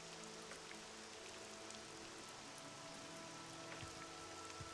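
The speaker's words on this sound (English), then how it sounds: "It's been a while since we've seen some good rain." Rain falling in the game OpenMW, a faint, steady hiss of drops on surfaces with occasional soft patters, continuous and low in level with no talking.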